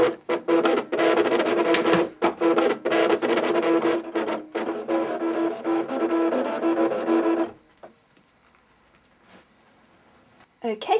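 A Cricut cutting machine works through fabric on a multi-cut setting, giving a steady whirring, buzzing drive with rhythmic clicks for several seconds before it stops and leaves near silence with a few faint knocks.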